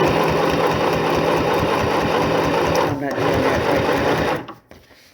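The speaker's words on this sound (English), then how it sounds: "since I'm having problems with my sewing machine" A sewing machine stitches tote bags in a loud, continuous mechanical whir with a rapid rhythmic chatter, briefly dipping before stopping near the end, while a person speaks over it.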